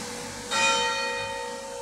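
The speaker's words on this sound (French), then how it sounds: "Les cloches sonnent." Church bells ring out with a bright, sustained metallic tone that swells in and lingers, heard at moderate volume with no voices over it.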